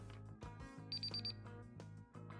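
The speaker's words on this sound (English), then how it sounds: "I heard officially the timer going" A round timer at a tabletop game tournament goes off with a quick burst of about six short, high electronic beeps lasting under half a second, over a steady hum of background sound.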